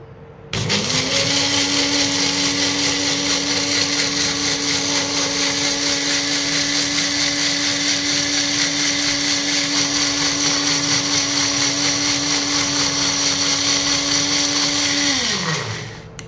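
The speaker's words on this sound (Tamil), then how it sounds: "இப்போது blend பண்ணி எடுத்துக்கலாம்." Electric blender grinding curry leaves, coriander seeds and water: a loud, steady motor whine starts abruptly, holds level for about fifteen seconds, then winds down at the end, with no talking.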